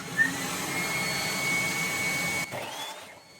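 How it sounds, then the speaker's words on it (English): A power saw cuts bevels along wooden planter slats, a sustained high whining roar with a steady tone that holds for about two and a half seconds, then drops and winds down as the blade spins out, close and fairly loud. "now I'm going to start by cutting the bevel cut on one side"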